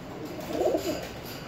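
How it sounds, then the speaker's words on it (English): A pet bird, pigeon or dove-like, cooing softly nearby: one brief low warbling coo in the middle of quiet room tone. "you can hear Fluffernutter cooing on my shoulder"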